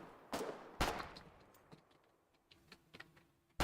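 Gunfire in the Foxhole war game: a few sharp, separated shots with quiet gaps between, moderately loud, with faint clicks in between and no talk.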